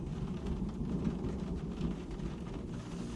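A thunderstorm on a stormy night, with deep thunder rumbling steadily beneath a dense wash of falling rain. The sound is continuous and fairly quiet, with no voices.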